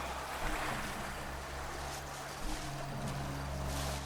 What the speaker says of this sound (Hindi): पायरॉन लहरों के साथ बह रहा है।